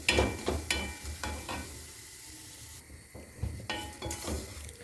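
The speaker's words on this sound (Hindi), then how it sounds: "इसको मैं हल्का सा इसमें भून लेती हूँ।" Semolina and sugar roasting together in a pan for halwa, heard as soft, intermittent stirring scrapes and a light sizzle that pause briefly midway, fairly quiet and close.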